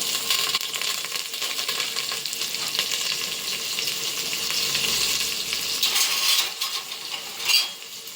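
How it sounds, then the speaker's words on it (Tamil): Onions and curry leaves sizzle in hot oil in a pan, a steady close hiss with occasional stirring scrapes and a metallic clink near the end. "எண்ணெய் காஞ்சிருச்சு. இப்போ வெங்காயத்தை போட்டுக்கலாம். கொஞ்சம் கருவேப்பிலை,"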